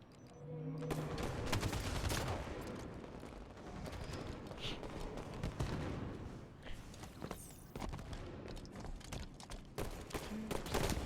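Rapid bursts of gunfire from a capture-the-flag match in a first-person shooter game, dense crackling volleys and scattered shots filling the whole stretch at a steady, fairly loud level.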